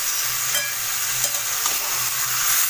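Chicken being sautéed and stirred in a hot pan as it cooks down, a loud steady sizzle with faint scraping of the spoon, close and continuous.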